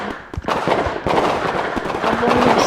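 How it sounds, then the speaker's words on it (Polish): Fireworks bursting in the Roblox game Brookhaven during a carnival update, a steady run of crackling pops and booms that fills the whole stretch, with a faint rising whistle near the end. "Tylko fajerwerki"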